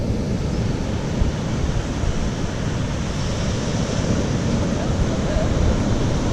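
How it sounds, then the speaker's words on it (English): Steady broadband roar of surf and wind at the Wild Beach in Grenada, a constant close wash of breaking waves with wind buffeting, no voices. "This is the Wild Beach."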